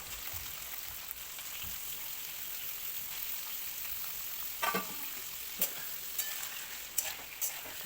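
Cut paneer pieces fry in three to four spoons of hot oil in a kadhai on a gas stove, a steady close hiss of sizzling with a few sharp scrapes and pops from stirring, no voices.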